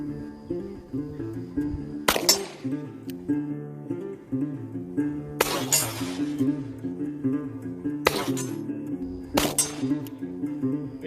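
Four sharp gunshot cracks ring out at an ATX Shootout match, spaced a few seconds apart over steady music, fairly close and loud.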